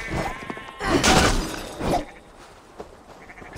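Sheep bleating in Assassin's Creed Valhalla, a short wavering call mixed in with louder noisy crashes and bursts of game sound, followed by quieter ambience.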